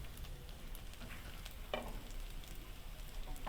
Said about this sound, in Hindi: जस्ट हम अनियंस सोते करेंगे, लाइट से ना कुक करेंगे